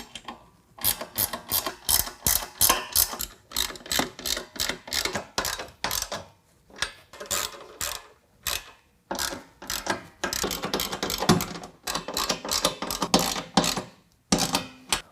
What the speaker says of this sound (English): we're gonna go ahead and tighten it down with a 13mm wrench or ratchet